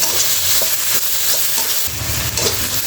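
Bottle gourd and prawn curry being stirred in a pan, a steady sizzle with scraping spoon strokes throughout and a heavier, louder stretch of stirring toward the end, close and alone.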